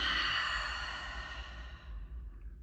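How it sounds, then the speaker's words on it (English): A long, deep breath let out through the mouth in a calm breathing exercise, a soft airy exhale close to the microphone that gradually fades over a few seconds. "Take a deep inhale through your nose. Exhale through your mouth."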